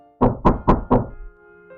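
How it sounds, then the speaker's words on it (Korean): Four firm knocks on a front door, evenly spaced and close, with a hollow thud to each, then quiet with a faint low hum. "현관을 두드리는 소리가 들리더라."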